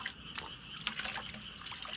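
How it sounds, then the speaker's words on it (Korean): Water rinses a container while a gibberellin solution is being mixed for Shine Muscat grapes, giving faint, brief trickling and dripping splashes close by. "헹궈 주도록 하겠습니다."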